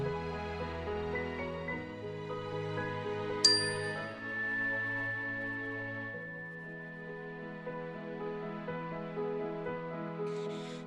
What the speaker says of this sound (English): We'll begin the meditation with a ring of the chime